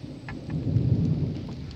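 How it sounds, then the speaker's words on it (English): Steady rain falls over a vineyard beside a house, a dense wash of drops with low rumbling underneath, continuous and fairly loud with no talking. "over the vineyard, watching it rain."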